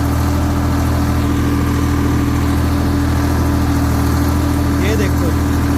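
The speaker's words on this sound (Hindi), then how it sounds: "यहाँ पे आपका लो गियर लग जाना है" A new 2023 Swaraj 855 tractor with a 57 hp engine runs in low gear, a loud, steady low-pitched diesel drone with no breaks, heard close up.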